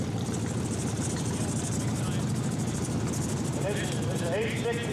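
A 1967 Wheel Horse 867 tractor with an 8 horsepower engine and George frame runs at a steady idle at an outdoor show parade, a continuous low chugging drone close by.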